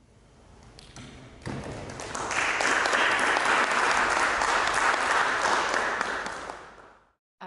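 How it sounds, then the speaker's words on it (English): An audience applauds after a lecture on energy, climate change and urban design, heard over a Zoom call. A scattered start builds quickly into full, dense clapping, holds for several seconds, then fades out. "I hope you are hearing that applause."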